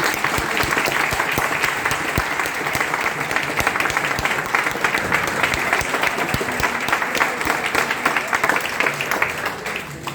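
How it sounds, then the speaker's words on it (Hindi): A hall audience at a Teacher's Day celebration at a medical college applauds a teacher with loud, sustained clapping that holds steady for about ten seconds before easing slightly. "ये इनके पढ़ाने का सबसे खास तरीका आपको बहुत पसंद आया, तो इसके लिए जोरदार तालियां।"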